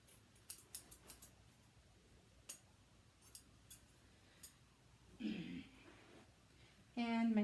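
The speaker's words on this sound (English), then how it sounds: "I'm going to cut this selvage off." Scissors snip the selvage off quilt fabric in a series of quiet, sharp clicks, several close together at first and then spaced out, before some rustling of the cloth and a short voice at the end.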